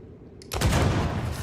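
Gunfire from the video game Banishers: Ghosts of New Eden erupts after a brief quiet, a dense loud burst of shots sustained for about a second, with no talk over it.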